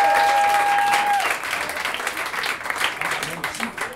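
A live podcast audience applauds their waitress Mylène, with clapping and cheering from the crowd while voices talk and call out over it, and a brief steady tone at the start.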